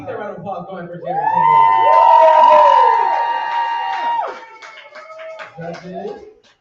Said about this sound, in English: Keep that round of applause going for Jerry.